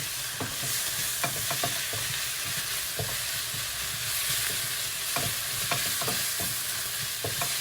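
Mhajib filling with turmeric, cumin, homemade garlic purée and salt stirred in a hot pan, a constant dense sizzle with scattered scraping strokes of the spoon, close and unbroken by any talking.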